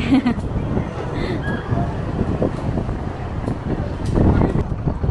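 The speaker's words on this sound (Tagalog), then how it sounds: "Mahangin sa labas. Lakas? Lakas na hangin." Strong wind buffets the microphone outdoors on Boracay in a broad, rumbling roar while people talk nearby throughout.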